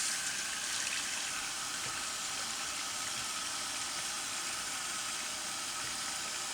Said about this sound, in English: Use warm water and fill your sink up.